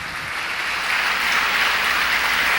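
A church congregation at a sermon breaks into loud, sustained applause for the Lord, a dense, even roar of hands that swells slightly toward the end.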